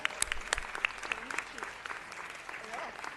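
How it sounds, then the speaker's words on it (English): Applause at a city council meeting for a mariachi band, scattered sharp claps over a softer crowd wash, fairly faint and distant, with voices faintly underneath. "let's give them a round of applause"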